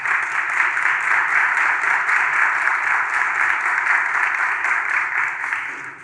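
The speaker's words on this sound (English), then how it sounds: "give her another round of applause" A summit audience gives a speaker a round of applause, steady, dense clapping that holds evenly loud for several seconds before starting to fade.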